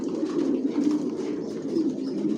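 Racing pigeons in a loft keep up a steady, close murmur of low cooing that continues without a break, with no talk over it.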